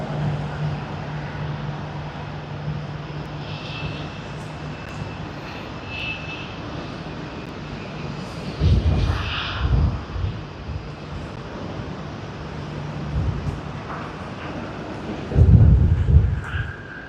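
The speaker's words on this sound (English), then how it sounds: "Air New Zealand Boeing 787." An Air New Zealand Boeing 787 Dreamliner at Sydney Airport gives a steady, broad jet roar, with a few louder gusty swells over constant background noise.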